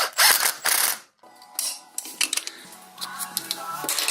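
Hand ratchet clicking as bolts are tightened in a crisscross pattern while installing a Yukon Grizzly locker in a Toyota BJ42, with bursts of rapid close metallic ratcheting separated by brief pauses and lighter clinks of tools and parts.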